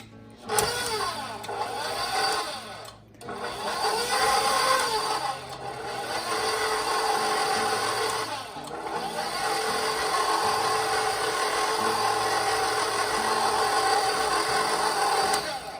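An electric mixer works cocoa cookie dough for holiday baking, its motor giving a steady, close whirring drone that holds for the whole stretch with only brief dips near the start.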